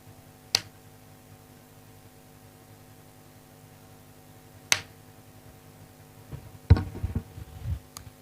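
A mentalist's hand claps during a trick ring out as two sharp, isolated cracks several seconds apart, followed by a third clap mixed with brief shuffling and rustling over a quiet room hiss.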